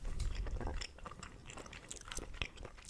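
Mentos Tropical Fresh chewing gum being chewed close up, soft wet smacking and squishy bites in an irregular rhythm, quiet and alone with no talk.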